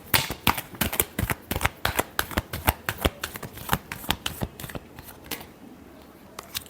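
Tarot cards are shuffled in a rapid series of crisp riffling bursts, close and distinct, slowing and fading toward the end.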